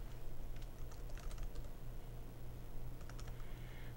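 Quick, irregular typing on a computer keyboard while filling in an online account form, light close-up key clicks in uneven bursts over a low steady hum.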